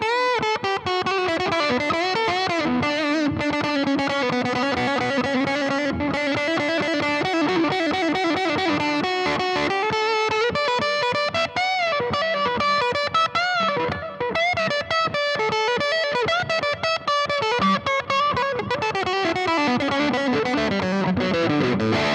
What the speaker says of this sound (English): I'm going to roll this tone all the way off for the middle pickup